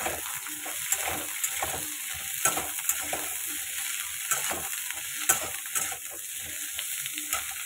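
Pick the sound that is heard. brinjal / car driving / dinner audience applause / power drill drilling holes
brinjal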